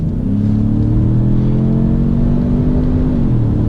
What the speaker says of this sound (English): now induction noise is mainly obviously induction noise from the engine